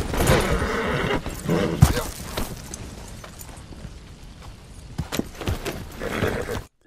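A horse in the video game Red Dead Redemption whinnies loudly with agitated snorts and some hoof clatter, amid rough, noisy background sounds.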